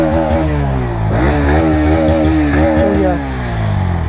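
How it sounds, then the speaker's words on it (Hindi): A motorcycle exhaust revving steadily with a throaty, pulsing note, rising in pitch around the middle before settling, loud and close. "सो ये आपने सुना है एग्जॉस्ट नोट"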